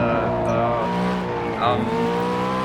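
Tires squeal briefly as a car slides during a VR racing game, layered over a steady engine drone that runs the whole time, with the skid sound rising near the middle.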